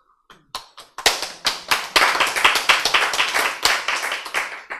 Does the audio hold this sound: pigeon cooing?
no